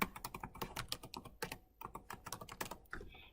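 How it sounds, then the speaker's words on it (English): Rapid, crisp keystrokes tap away on a computer keyboard in quick uneven bursts, close and fairly quiet. "Typing in a password."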